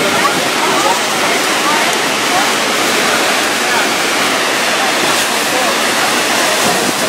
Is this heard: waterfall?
yes